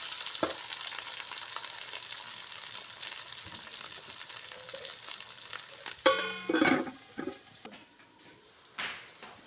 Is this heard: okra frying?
yes